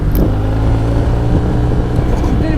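A motorcycle engine idles steadily and close by on a sunny Paris street with a view of Sacré-Cœur, a loud, even rumble that carries on throughout before shutdown, with someone speaking over it.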